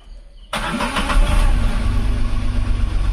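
After a half-second of quiet, a Renault Kwid Redi-Go car engine catches with a sudden loud start, then settles into a steady, close, rumbling idle.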